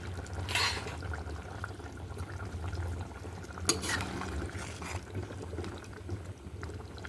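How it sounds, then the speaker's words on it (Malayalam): Sardine fish curry with tamarind and chili simmers in a pot, giving a soft, steady bubbling with a few brief clinks or stirring noises close by, with no one talking. "നല്ല തിളച്ച് മീനൊക്കെ വേവായിട്ടുണ്ട്."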